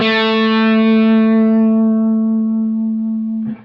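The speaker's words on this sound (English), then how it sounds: "now I'll add some violin vibrato." A distorted electric guitar note with effects rings long and loud while violin-style vibrato is applied, then is cut off abruptly near the end with a short burst of noise.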